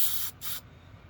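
A spray can of lacquer sprays onto a crayfish specimen in two quick bursts of loud hissing, the second cut off sharply, followed by quiet.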